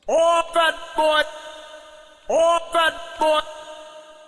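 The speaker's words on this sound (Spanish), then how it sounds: "cómo tú le quieras configurar al efecto del reverb" A tonal sung or synthesized phrase repeated twice, three bright stabs each, with a lingering reverb tail from Virtual DJ's reverb effect ringing out after each group.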